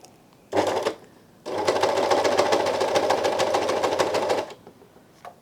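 Elna 792D overlocker running a stitch at length setting 4: a brief burst, a pause, then about three seconds of steady fast rhythmic whirring and clatter, close and loud with no talking.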